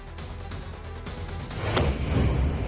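A blast in Tel Aviv after a fragment of an Iranian missile fell, heard as a sudden loud broadband boom near the end, rolling on over a constant low rumble of background noise.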